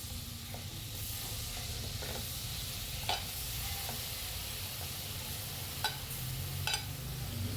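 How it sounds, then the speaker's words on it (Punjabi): Paneer cubes roast in butter in a pan, a steady sizzle with a low frying rumble throughout, broken by a few sharp scrapes and clicks as a spoon stirs them. "ਇਸ ਨੂੰ ਆਪਾਂ ਚੰਗੀ ਤਰ੍ਹਾਂ ਹਿਲਾ ਦੇਵਾਂਗੇ ਤੇ 3 ਤੋਂ 4 ਮਿੰਟ ਤੱਕ ਇਸ ਨੂੰ ਆਪਾਂ ਬਟਰ ਵਿੱਚ ਹਲਕਾ ਹਲਕਾ ਰੋਸਟ ਕਰਾਂਗੇ"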